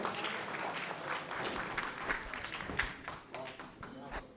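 An audience at a mushaira applauds a humorous poet with scattered, fairly faint clapping that rises and falls over several seconds, mixed with murmuring voices.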